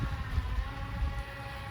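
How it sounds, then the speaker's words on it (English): Twin electric motors of a Proboat Riverine 22 RC jet boat buzz steadily with a dense, continuous whine, moderately loud and unbroken, with no voices over it. "I just like the sound of those twin motors buzzing away."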